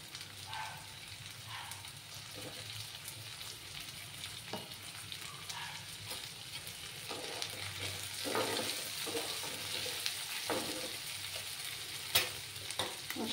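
Chopped tomato tossed into a hot frying pan, giving a steady crackling sizzle with light stirring scrapes and occasional louder pops, close and continuous throughout.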